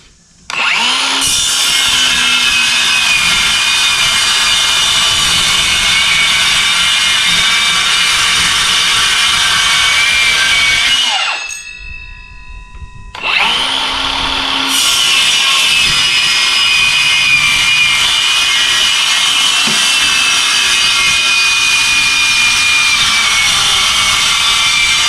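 A racecar rear wing having parts cut off with a power tool, a loud continuous whining saw drone that stops briefly partway through and then resumes.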